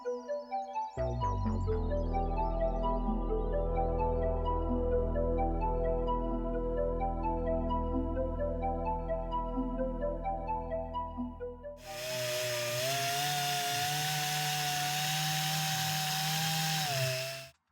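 A mini polisher fitted with a microfiber pad runs loud and close while buffing out scratches. A steady motor whine with a pulsing edge shifts partway through to a harsher, brighter grinding hum as the pad works the surface, and no one speaks.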